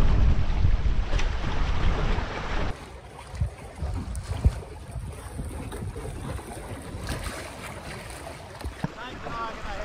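Small classic wooden sailing boats, Welsford Navigators and a Pathfinder, moving along the Clarence River, with steady water wash and wind rush that drops quieter partway through, and faint voices in the background.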